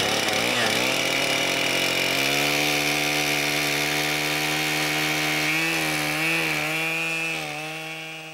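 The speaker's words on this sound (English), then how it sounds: "That's a chainsaw." A chainsaw runs steadily and loudly, carving a wooden sculpture, its engine pitch holding and shifting as it revs and bogs, continuous for about eight seconds before easing slightly at the end.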